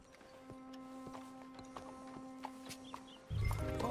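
Horse hooves in the video game Red Dead Redemption 2, a quiet, uneven series of clip-clop steps under a low ambient hum, with a louder burst of sound at the very end.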